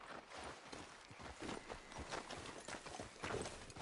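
Horse hooves clip-clop steadily on the ground in the Red Dead Redemption 2 video game, a faint, even walking rhythm that carries through the whole stretch without a break.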